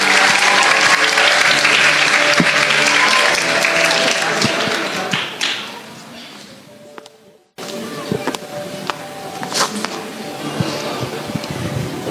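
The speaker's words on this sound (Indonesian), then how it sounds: "Marilah kita berikan tepuk tangan." Sustained applause from a talk-show audience, loud and dense for several seconds, then fading and briefly dropping out before a second burst of clapping picks up again and continues to the end.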